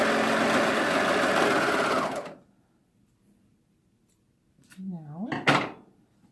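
A sewing machine runs fast and steady, closing the waistband of a circle skirt, then stops abruptly and gives way to a few soft handling clicks and rustles close by.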